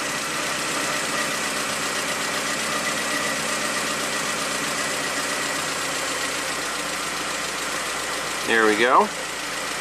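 A 1987 Toyota MR2 engine idles steadily while its idle screw is turned slowly in, a low even hum with a brief voice near the end.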